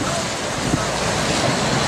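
Tornado winds in southwestern Tennessee, gusting up to 75 miles per hour, roar as a dense, continuous, loud rush of noise that stays steady and unbroken across the short stretch.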